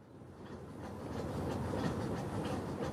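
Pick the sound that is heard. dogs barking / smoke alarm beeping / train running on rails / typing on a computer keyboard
train running on rails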